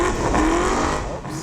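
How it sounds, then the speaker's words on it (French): A race car engine, in a Camaro versus Miata race, drones at high revs as it weaves to warm its tyres, a steady buzzing roar close by with a slight pitch sweep. "Oh, Simon réchauffe ses pneus."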